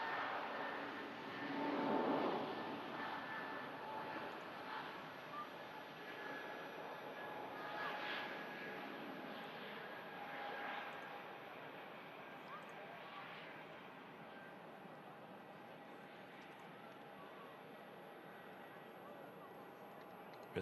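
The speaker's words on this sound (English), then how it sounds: "Really smooth takeoff there from the Airbus." An Airbus airliner takes off at an airport, its jet engines a faint, distant broad roar that swells early and then holds steady, with quiet voices in the background.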